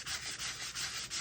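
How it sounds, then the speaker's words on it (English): Sandpaper rubbing the shiny surface off a book cover in quick back-and-forth strokes, a close, dry rasping hiss repeating about four times in a little over a second. "I want to sand the shininess off."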